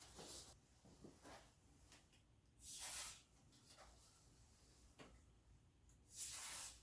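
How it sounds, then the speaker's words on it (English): Lubricant sprayed onto the moving brake parts of an old Trek bicycle during a tune-up: three short, soft hissing bursts from an aerosol, separated by faint handling clicks and quiet room tone. "little lube on all the moving bits"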